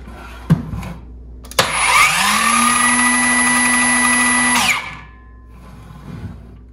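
With silent mode on, a Metabo HPT (Hikoki) 18-volt 6-1/2-inch cordless circular saw spins up after a couple of clicks and holds a steady, loud whine for about three seconds before winding down, free-running without cutting.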